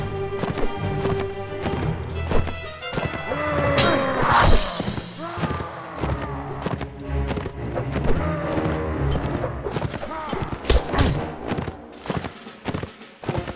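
Horse hoofbeats in the video game Mount and Blade Warband, a steady clip-clop under a busy mix of game noise, thuds and impacts, with occasional neighs and a loud continuous bed throughout.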